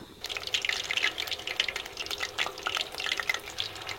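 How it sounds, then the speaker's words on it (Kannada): Batter-coated jackfruit pieces sizzle steadily in hot oil, a close, continuous crackling and bubbling fry with no talking over it. "ನೋಡಿ ಒಂದು ರೌಂಡ್ ನಾವು ಗುಜ್ಜೆಯನ್ನು ಎಣ್ಣೆಗೆ ಬಿಟ್ಟಾಯಿತು"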